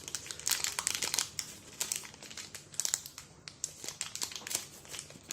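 A small plastic sachet of embossing powder is opened up close, giving steady dense crinkling and rustling in quick bursts throughout with no talking.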